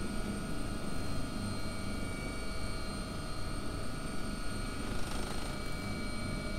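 AW-139 air ambulance helicopter in X-Plane 11, with the rotor at steady RPM giving a constant droning whir and a faint turbine whine, unbroken for several seconds.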